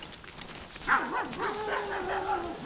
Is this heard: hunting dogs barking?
yes